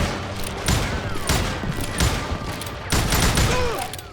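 Gunshots in the Western shooter Call of Juarez: Gunslinger: loud, sharp repeated revolver and rifle blasts in quick volleys, with several close cracks spaced about a second apart over a busy battle din.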